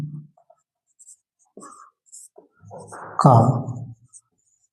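A pen writes on paper in scattered scratchy strokes, close and moderately loud, with a voice speaking over part of it.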